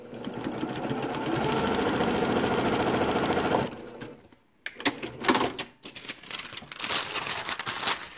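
A sewing machine stitches a quilt block seam in a fast, steady mechanical rattle for several seconds, then stops, giving way to nearby fabric handling and scattered clicks.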